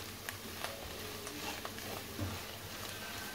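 Sauce with garlic and spices cooking in a pan, a faint soft sizzle with occasional light stirring taps, close and quiet.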